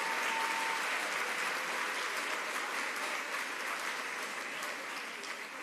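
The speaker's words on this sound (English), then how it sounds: "Again, another round of applause for both Gretchen and Eileen." Steady applause from a crowd at a ribbon cutting ceremony in Hyde Park, a dense wash of clapping that holds at a fairly even level for several seconds and eases slightly toward the end, with no talking over it.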